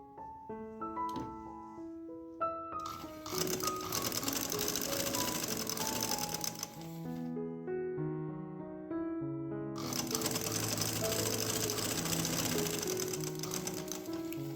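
Sewing machine stitching pintucks on trouser fabric, two fairly faint runs of rapid even mechanical clatter separated by a pause, with no speech.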